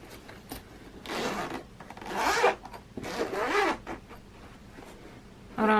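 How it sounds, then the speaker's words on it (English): A zipper is drawn along a small shoe-case-style carrying case for a BELLE portable nail drill, giving several close raspy pulls in bursts with short pauses, and a quick final zip at the end. "And it has two zippers here."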